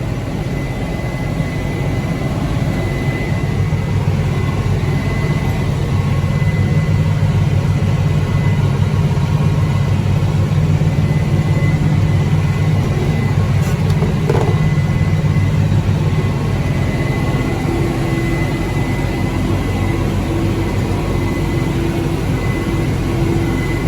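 Steady engine drone of a four-wheel drive tractor on a farm, a constant low rumble that holds even and loud throughout, with no voices over it.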